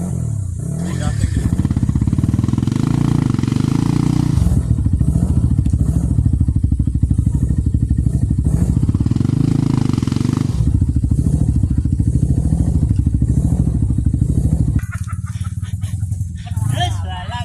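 Motorcycle engine revved hard while climbing a steep hill road, its cracked engine running loud and rough in a steady droning roar with rhythmic clattering pulses, ending abruptly near the close as people talk faintly in the background.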